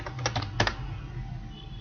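Keys on a computer keyboard tap in a quick cluster of a few strokes while a date is entered, soft and close, followed by quiet room hum.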